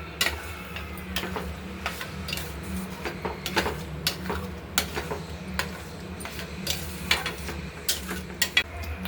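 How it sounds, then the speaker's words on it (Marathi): Mashed vegetables stirred into pav bhaji masala in a pan, with soft sizzling under a series of irregular scraping and tapping strokes from a spoon, close and fairly quiet, no voices. "आता याच्यामध्ये घालून मॅश केलेले भाज्या आता हे मसाल्यामध्ये छान मिक्स करून घेऊ."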